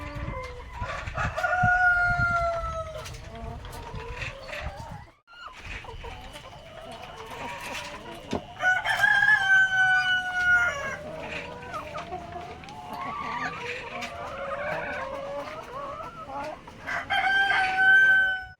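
Chickens cluck continuously nearby while roosters crow repeatedly, some calls close and loud, others farther off, with a brief lull midway.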